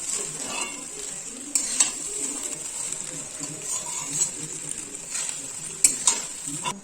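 Fried rice is stirred in a pan, with intermittent scrapes and clinks of a spatula over a soft sizzle; birds call in the background.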